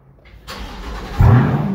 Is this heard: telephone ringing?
no